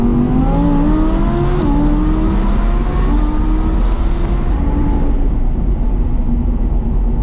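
A 1,000whp Alpha 10 Audi R8 accelerating hard, its engine a loud, close roar that climbs through rising pitch sweeps with quick gear shifts before easing off near the end.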